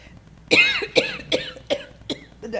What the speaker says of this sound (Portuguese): Deu uma tosse aqui, lasqueira.